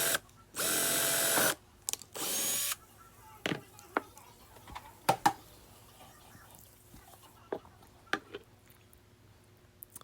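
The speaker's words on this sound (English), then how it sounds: "We're just going to drill some holes to attach the bead wreath." Two short bursts of a power drill whirring as it drills holes in wooden rounds, followed by scattered clicks and light taps in an otherwise quiet room.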